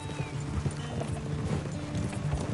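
Horse hooves clip-clop at a steady trotting rhythm in Red Dead Redemption 2, close and continuous over a low bed of game ambience, with no voices.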